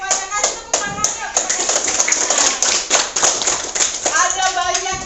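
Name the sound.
class of students applauding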